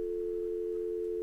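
Steady telephone dial tone in the video game Thimbleweed Park, one continuous clear hum at constant pitch and loudness that fills the short moment alone, with no voices.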